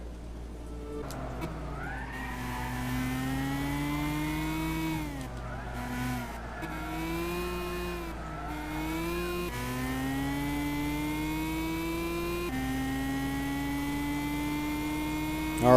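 Cizeta V16T racing in Gran Turismo 6, its V16 engine holding a steady high-pitched whine that climbs and drops through repeated gear shifts and lifts, loud and continuous with no talking.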